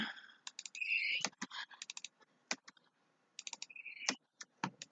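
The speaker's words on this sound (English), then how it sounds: "So clicking and taking camera pics." Rapid computer mouse and keyboard clicks come in uneven bursts with short pauses, close and crisp, alongside a few brief chimes from posing software while camera pictures are taken.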